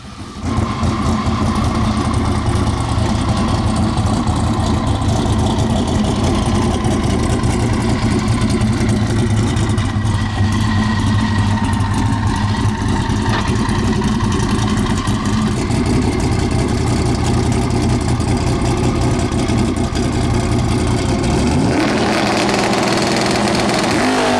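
Drag car named Leroy running hard in a loud, continuous engine roar for an eighth-mile pass, the tone shifting near the end as it comes off the throttle.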